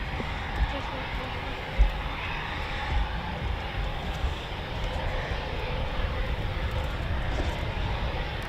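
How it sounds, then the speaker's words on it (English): A Eurofighter Typhoon FGR4 jet making a performance takeoff at RAF Coningsby, a loud, steady, broadband engine roar that holds throughout, with people talking over it. "Performance takeoff."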